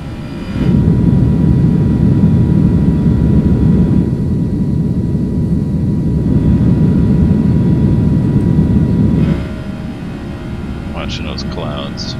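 Airbus A320 jet engines roar loud and steady during climb in X-Plane 11, a dense broadband drone that drops to a quieter hum near the end, with a voice briefly heard.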